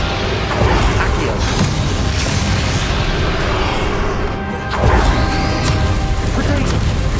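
Spell-casting in the video game Hogwarts Legacy, heard as loud booming bursts and crashing impacts in a dense, busy battle mix, with two sharp hits standing out.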